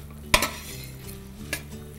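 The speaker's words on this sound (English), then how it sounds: "we're just gonna fry this down a little bit" Meat fries in a pan for cooking greens, with a soft steady sizzle broken by two quick utensil clinks against the pan.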